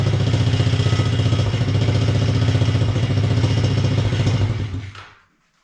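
A small gas engine from a gas-powered ride-on toy car chugs loudly with a rough, clattering rhythm, holding its speed for several seconds before abruptly shutting off into silence.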